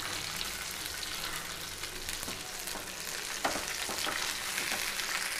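Onion and green chilli sauté in a pan for a pumpkin poriyal, giving a steady soft sizzle with a few faint scrapes of stirring; no one speaks.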